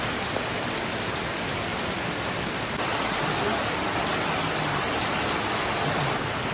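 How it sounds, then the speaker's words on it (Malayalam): Steady, dense rainfall pouring down outdoors, a continuous heavy hiss with no pauses and no voices. "പുറത്ത് നല്ല മഴയുണ്ട് രാവിലെ തന്നെ നല്ല മഴയുണ്ട്"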